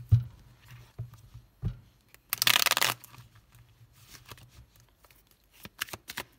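Tarot cards shuffled and laid out on a table, a quiet burst of rapid riffling followed by scattered soft taps and slaps as individual cards land, close and faint between pauses.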